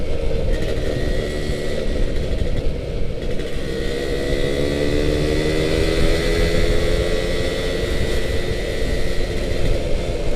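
A Suzuki Satria two-stroke motorcycle is ridden at an easy pace, its engine a loud, continuous drone with rising and falling tones and steady wind rush.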